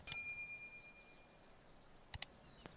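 A bright notification bell dings once, loud and ringing, then fades slowly; a few faint, short clicks and ticks follow near the end over low background hiss.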